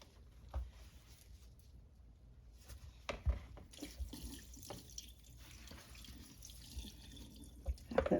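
Water runs from a faucet into a kitchen sink, fairly quiet and steady, with a few sharp clinks and drips scattered through it and no speech.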